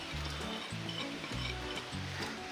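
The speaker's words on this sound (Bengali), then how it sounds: "আর এই পেঁচে করে আমি মিক্সারে দেবো।" An electric kitchen mixer grinds biscuits into powder with a loud, steady whirring roar and a pulsing low hum that rises and falls in short bursts.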